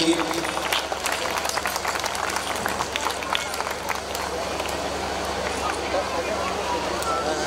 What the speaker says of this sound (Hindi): जोरदार तालियां इन दोनों बहनों के लिए।